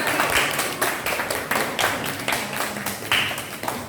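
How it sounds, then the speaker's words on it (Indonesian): Classroom applause for a student group during a lesson: a burst of clapping from several people, fairly close and steady for a few seconds, with faint voices underneath. "tepuk tangan dulu kelompok 1"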